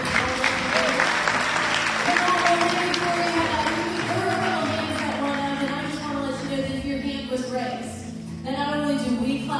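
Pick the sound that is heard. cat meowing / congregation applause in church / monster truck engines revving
congregation applause in church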